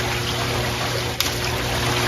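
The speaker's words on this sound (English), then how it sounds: "I'm going to go ahead and start filling the basin with water since it's low" Water runs steadily into the low basin of a ceramic vase fountain, a soft continuous trickle under a constant background hum, with one brief click midway.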